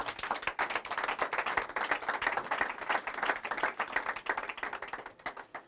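A church congregation applauding in praise of Jesus, a dense crowd of hand claps that continues steadily for several seconds before thinning out toward the end.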